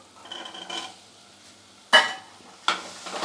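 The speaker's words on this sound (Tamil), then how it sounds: "நல்லா மிக்ஸ் பண்ணிவிட்டு" A spoon scrapes and clatters against a pot while rajma and rice are mixed, with two sharp, close metallic scraping bursts after a quieter stretch of soft stirring.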